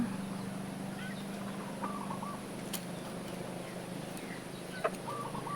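Chickens fed coconut worms give faint, scattered clucks over a quiet background, with a few brief sharp sounds in between.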